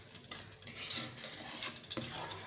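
Cumin and fenugreek seeds frying in hot oil in a pan, giving a soft steady sizzle with light scraping and stirring clicks, heard quietly with no voices.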